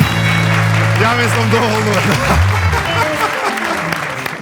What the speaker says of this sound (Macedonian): Доста е аплауз за Владко Лозановски